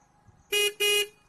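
A Triumph Scrambler 400 XC motorcycle's single horn honks twice, each blast loud, close and about a quarter second long, separated by a short gap.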